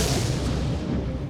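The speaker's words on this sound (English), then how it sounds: "Just these huge explosions." Huge explosions booming outside a holiday hotel in Zante at night form a continuous loud, dense roar with no gaps, close and overwhelming.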